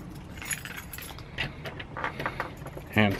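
A bunch of keys jingles lightly several times, close by, amid faint background noise, ending with a brief louder rattle.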